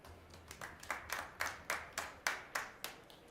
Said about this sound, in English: Just a smattering of applause.